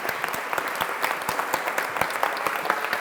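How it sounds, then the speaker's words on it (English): Audience applause at a teacher education festival talk, a steady wash of many hands clapping with sharp individual claps standing out, moderately loud and continuous throughout. "Round of applause."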